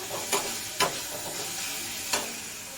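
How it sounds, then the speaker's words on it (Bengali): Snake gourd frying in a pan gives a steady sizzle, and a few sharp scrapes of stirring stand out clearly above it; there is no speech. "আর এই দিকটা আমার চিচিঙ্গা ভাজা হচ্ছে"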